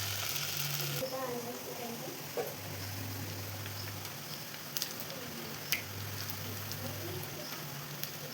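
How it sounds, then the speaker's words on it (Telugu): Vadas fry in hot oil in a kadai, giving a steady, even sizzle and bubbling hiss with occasional small pops, close and continuous under a person's talking. "ఇప్పుడు వడలు వేసేస్తాను. ఇలా వడలు ఆయిల్లో వేసేసుకున్నాం ఒకటి."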